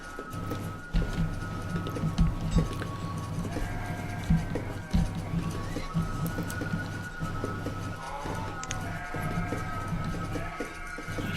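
Sheep in the village-building video game Banished bleat now and then over a steady bed of game ambience and soft thuds, moderately close and without talk.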